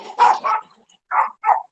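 A dog barks indoors in four sharp, loud, close bursts, two quick ones followed by a pause and two more, with no talking.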